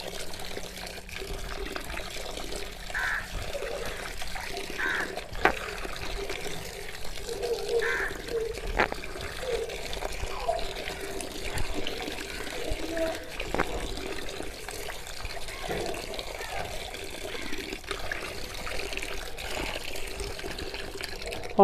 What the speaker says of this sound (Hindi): अल्हम्दुलिल्लाह 3 से 4 बार अच्छे से धोएंगे।